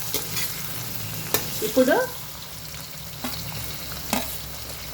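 Carrots, peas, potatoes and capsicum fry in a pan for veg noodles, a soft sizzle under clinks and scrapes of a spoon stirring, with a brief spoken word.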